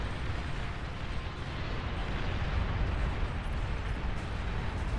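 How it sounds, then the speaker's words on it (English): Bombing run explosions in the real-time strategy game Beyond All Reason, heard as a continuous low, rumbling roar of overlapping blasts that stays steady and dense for several seconds without distinct gaps. "Oh, but the bombing run from Droid."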